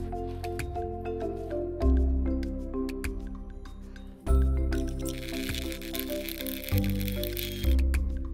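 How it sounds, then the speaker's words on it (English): Shredded cabbage is scooped and pressed down into a jar for sauerkraut, giving close, wet squishing and squelching crunches repeated in several firm pushes, with brine sloshing between them. "Let's get another scoop of cabbage in there."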